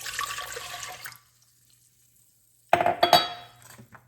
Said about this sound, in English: on the stove, I put in 1 cup of white vinegar and 1 cup of water